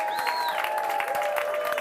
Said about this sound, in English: Give him a big Hampden round of applause.